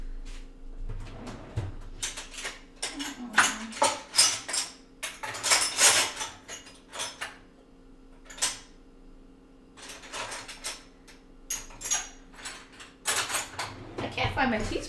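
Metal cutlery clinks and rattles in repeated bursts as someone rummages through a kitchen drawer for a teaspoon, with dishes knocking, a steady background hum and some talk mixed in.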